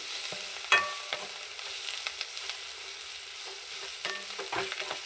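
Drumstick leaves (murungai keerai) sautéed in a pan for soup give a steady close sizzle and frying hiss, broken by several sharp scrapes and clicks of stirring, with no talking.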